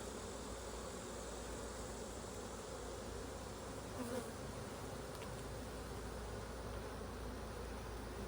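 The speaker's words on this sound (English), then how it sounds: "Plenty of bees." Honey bees buzz steadily in an opened hive during a frame inspection, a dense, even drone that fills the whole stretch at close range with no talking.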